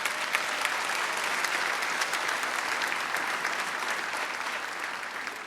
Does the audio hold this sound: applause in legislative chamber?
yes